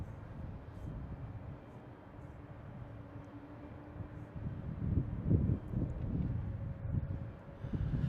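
Jet airliners at Boston Logan International Airport, one lining up on the runway, give a steady distant engine rumble that swells louder in the second half, with wind buffeting the microphone and no talking.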